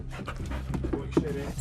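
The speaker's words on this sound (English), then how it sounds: "And Buster the tobacco dog is keen to get his nose into the find too." A tobacco sniffer dog snuffles and pants close by over illicit shredded tobacco packets, with quick, uneven sniffing bursts and a few sharper puffs near the end.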